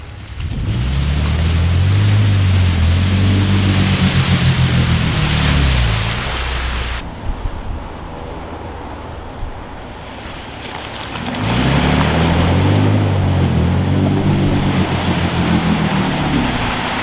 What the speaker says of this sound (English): Look at the river running.